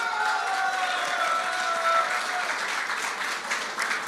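Audience applause at a crypto summit in Dubai for a speaker, a dense, steady wash of clapping from a large crowd that holds roughly even for several seconds with faint tonal hum underneath.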